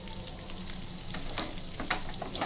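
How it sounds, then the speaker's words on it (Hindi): Barramundi (jitada) fish frying in a pan gives a steady, fairly quiet sizzle with light crackles and a few sharper pops, continuous throughout with no talking. "फ्राई कंटिन्यू है"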